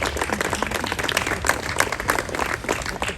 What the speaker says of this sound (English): a round of applause for Mayor Cleveland because that was a very great speech